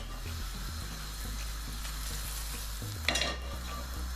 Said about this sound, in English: First we're gonna add our ground spices in here.